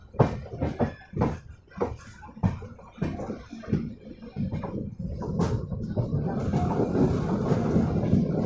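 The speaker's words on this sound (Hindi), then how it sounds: "ट्रेन इस समय देखिए अपने कर्व पे" The 19315 Veer Bhumi Express from Udaipur to Asarva runs through a curve, with uneven rattling clacks and bumps that settle into a steady, louder rolling rumble.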